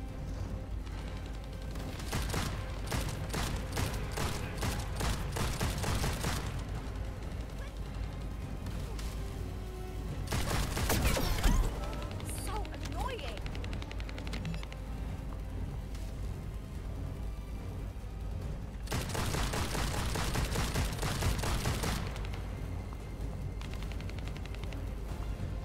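Video game gunfire crackles in rapid bursts, with a dense volley early on, another around the middle and a long sustained barrage near the end, plus scattered mechanical clatter between them.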